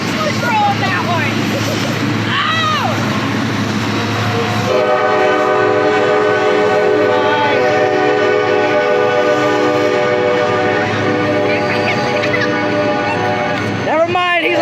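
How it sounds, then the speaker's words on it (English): A CSX SD40-2 diesel locomotive sounds its multi-chime train horn in Mobile, Alabama, a long, loud sustained chord that holds for about ten seconds over the rumble of the passing train, with a voice talking early on. "he's allowed to honk his horn."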